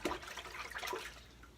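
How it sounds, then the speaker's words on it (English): A Headblade head-shaver razor rinsed under running water, a quiet gurgling rush that fades toward the end. "You just rinse out with the water"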